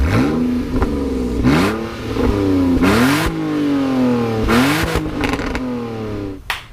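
A BMW E46 engine with the muffler removed revs repeatedly with a loud, raw, unmuffled roar, rising and falling in several throttle blips close by.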